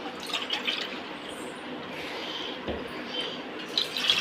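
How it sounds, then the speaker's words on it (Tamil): Two cups of water pour with a continuous splashing hiss into a pot for cooking rice, filling it steadily for a few seconds, close by with small drips and bubbles. "இப்போ நம்ம இதில் 2 கப்பு தண்ணி ஊற்றிடலாம்."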